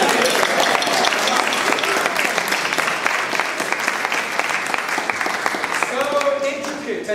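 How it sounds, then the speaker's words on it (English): Sustained applause from an audience at the cutting of a celebration cake in 2013, steady dense clapping throughout with some crowd noise and brief talk toward the end. "Round of applause."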